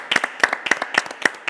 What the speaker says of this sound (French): Bah, écoutez, on peut applaudir.